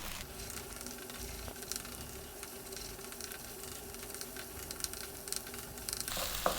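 An egg fries in a pan on high heat, giving a steady close sizzle with scattered crackles and pops, alone without talk.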